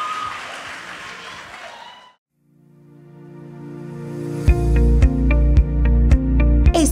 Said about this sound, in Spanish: Fuerte el aplauso para Dani.